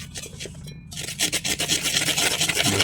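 Wheat flour batter for a wheat cake is stirred by hand in rhythmic scraping strokes, close and fairly loud, after a short pause near the start.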